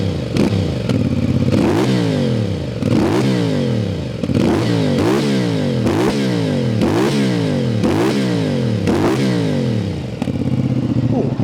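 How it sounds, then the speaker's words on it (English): A 2023 CFMOTO 450SR motorcycle engine revs repeatedly in quick, rising bursts, each blip dropping back before the next, loud and close with a throaty exhaust. "Nice and smooth sounding engine, and that exhaust note is quite throaty actually."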